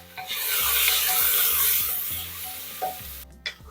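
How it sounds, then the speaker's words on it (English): Onions frying in a pan for a lamb and okra curry, a steady close sizzle with a few sharp scrapes of a spoon stirring near the end. "Now you just need to fry the onions till the onions get nice and brown"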